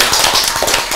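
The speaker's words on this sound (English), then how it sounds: "So round of applause for that." A round of applause from an audience at a talk: a short, loud burst of many hands clapping together, lasting about a second.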